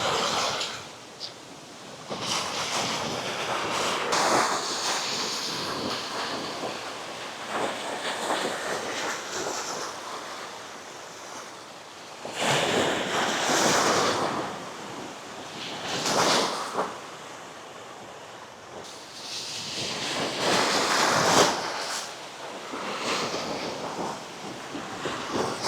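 Ocean waves at high tide on White Beach, Boracay, surge in and wash back in repeated swells every few seconds, a steady roar with wind buffeting the microphone and no talking.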